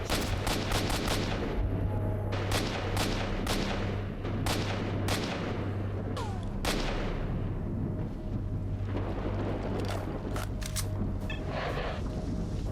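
Rapid sharp gunshots crack in scattered bursts during a firefight in the video game STALKER, some single and some clustered, loud over a constant ambient hum with no talk.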